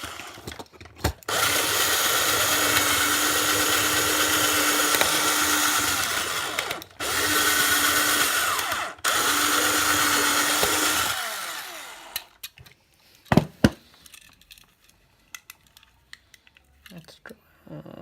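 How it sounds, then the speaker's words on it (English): A power drill drilling out deep-set rivets on a Hot Wheels toy car whines continuously for several seconds in long bursts, briefly stopping and restarting, followed by scattered clicks and knocks. "it's pretty hard to drill this one. Can you see all the rivets are in deep down?"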